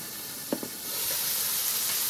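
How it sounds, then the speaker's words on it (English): Steam hissing out as the lid comes off a pot of fresh tomato sauce, a couple of soft clinks and then a steady airy hiss that rises and holds, close and fairly quiet. "so the steam goes away from you and out in your face."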